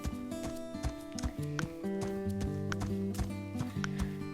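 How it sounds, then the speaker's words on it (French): A pony being led back to its stall gives a clear clip-clop of hooves and whinnies close by, against a background of melodic tones. "Donc on va remettre le poney au box."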